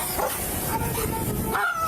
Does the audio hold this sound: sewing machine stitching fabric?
no